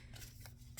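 Sharp-edged tarot cards being shuffled by hand, a soft papery riffling and rustling through the short stretch, ending in a brighter slap, with no talking.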